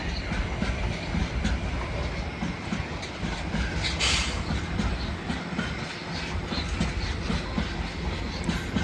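Class 701 unit 701048 departs Clapham Junction for London Waterloo, a fairly quiet steady rolling rumble with light clicking of wheels over joints and no talk.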